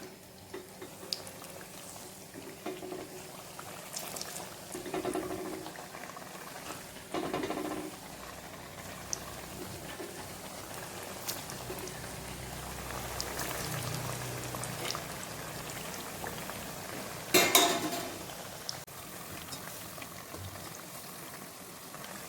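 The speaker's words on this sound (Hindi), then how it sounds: "अब ये जो हमने दबाए हुए पकौड़े हैं ये हम अगेन फ्राई करेंगे।" Cauliflower pakoras bubble and crackle in hot oil during a second fry, a continuous busy sizzle with occasional louder bursts of spattering.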